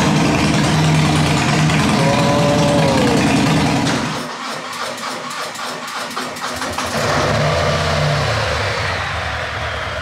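A big 1200cc cruiser motorcycle engine with aftermarket exhaust idles with a deep, throbbing exhaust rumble, briefly dropping quieter in the middle before picking back up, close and loud.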